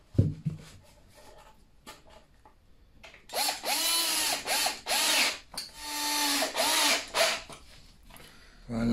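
A cordless power driver sinks 4-inch screws through a batten into a dot-and-dab plastered wall, several loud whirring bursts with pauses between them, each rising in pitch as the screw bites.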